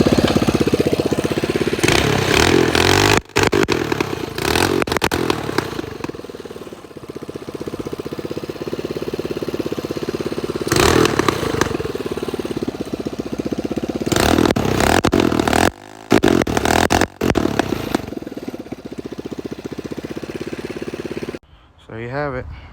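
A CT200U-EX minibike engine fitted with an aluminum flywheel and a newly installed carburetor starts up and runs loudly nearby, a rough, clattering small-engine drone that surges and dips several times and then cuts off at the end.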